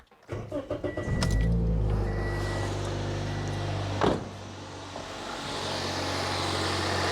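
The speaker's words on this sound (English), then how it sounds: "Everything starts up. It's running smooth." A 2010 Toyota Yaris engine cranks briefly, catches and settles into a steady, smooth idle, with a short mechanical clunk partway through and no talk.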